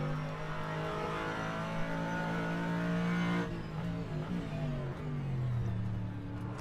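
A Corvette GT3 race car in a sim racing game roars hard out of a corner, the engine note climbing through the gears, then drops with a gearshift before rising again, loud and continuous with no talking.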